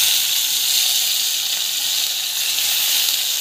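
Tomatoes sautéing in a pan give off a steady, close sizzle, an even hiss that holds without a break.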